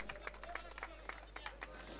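Audience applause at a kabaddi tournament prize ceremony in Dombivli–Kalyan, a steady wash of clapping with scattered sharper claps and some crowd babble mixed in throughout.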